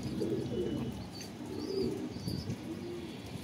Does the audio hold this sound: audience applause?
no